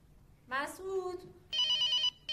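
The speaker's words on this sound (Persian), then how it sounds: "تلفن رو جواب میدی؟" A telephone rings with a bright electronic trill in one sustained burst, following a short spoken exclamation, in a Persian television drama scene.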